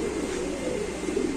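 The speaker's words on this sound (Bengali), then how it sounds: "দর্শক, এখানে আছে খুব চমৎকার চমৎকার একজোড়া বন্ডিনেট কবুতর" A pair of modern Bondinette pigeons cooing softly and continuously, close by, a low rolling murmur with no clear pauses.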